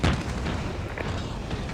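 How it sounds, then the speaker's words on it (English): Artillery fire in the wargame Regiments, a dull boom landing at the start followed by a softer distant thud, with low rumble between them. "There's definitely artillery coming in from there and there."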